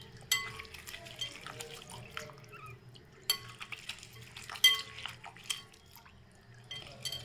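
Raw tamarind squeezed and kneaded by hand in water for rasam makes faint, irregular wet squelches and splashy drips, with sharper squishes now and then.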